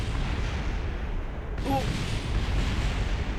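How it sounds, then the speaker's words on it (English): Spacecraft breaking apart and exploding during atmospheric reentry in the video game Kerbal Space Program, a dense rumbling roar with a sharper burst partway through, and a voice exclaiming briefly over it. "Oh, the explosions."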